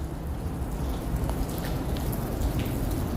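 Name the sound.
rain falling on a rainy day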